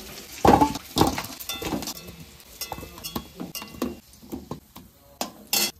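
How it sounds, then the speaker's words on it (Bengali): Fried potatoes are lifted out of a hot pan with a metal utensil. Close, irregular clinks and scrapes against the pan come in uneven bursts, with faint sizzling underneath. "আলু ভাজা হয়ে গেছে, এবার আলুটা তুলে দেবো।"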